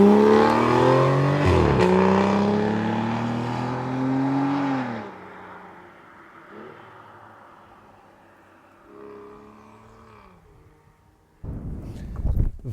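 An Aston Martin Virage convertible engine revs loudly up close, then falls and settles into a quieter idle with a few softer blips before a sharp burst of noise at the end.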